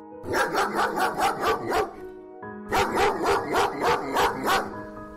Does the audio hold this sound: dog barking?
yes